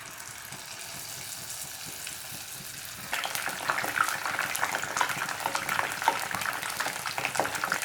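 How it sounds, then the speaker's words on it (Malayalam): Paneer pieces deep-frying in hot oil for paneer 65: a soft steady sizzle that jumps into a louder, busier crackle with scattered pops partway through. "ഇനി നമുക്കിതിലേക്ക് ബാക്കിയുള്ള പനീർ കഷ്ണങ്ങളും ഇട്ടിട്ട് ഫ്രൈ ചെയ്തെടുക്കാം."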